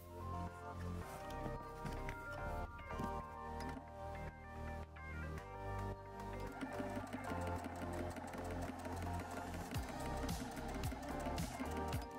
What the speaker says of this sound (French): il ne me reste plus qu'une couture à faire, c'est cette surpiqûre tout autour du sac